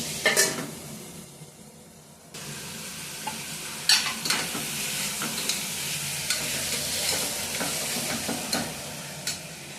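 Tomatoes tipped into a hot pan, a quieter sizzle that jumps louder after a couple of seconds, with spoon-and-pan clinks and stirring scrapes scattered over the steady frying hiss, nearby and wordless.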